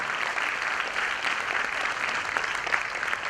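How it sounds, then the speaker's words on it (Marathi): Audience applause at an award felicitation event, a steady, even wash of many hands clapping continuously at moderate level, fairly distant, with no talking over it. "टाळ्यांचा आवाज कमी पडतोय बहुतेक"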